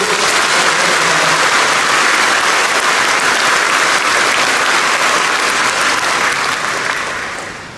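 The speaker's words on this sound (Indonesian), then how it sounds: "Kita beri tepuk tangan bagi seluruh" A government retirement and civil-servant appointment ceremony fills with loud, continuous audience applause, a thick sustained roar of clapping that fades slightly at the close.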